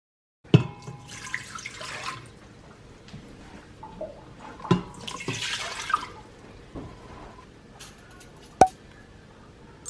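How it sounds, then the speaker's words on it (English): A measured cup of water pours and splashes into an Instant Pot in a home kitchen, with a few sharp clinks and knocks of the container and lid between quieter trickling stretches. "So now I'm going to measure 1 cup of water and pop into my instant pot."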